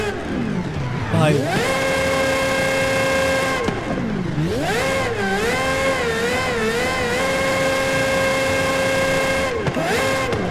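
A car engine in Forza Horizon 5, revved in neutral while stationary: loud harmonic engine tone swooping up and down through repeated throttle blips and holds, with a brief spoken word over it.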